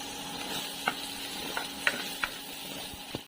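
Garlic and onion sauté in a pan with a constant soft sizzle, punctuated by several distinct utensil clinks and scrapes spaced about half a second apart, close by.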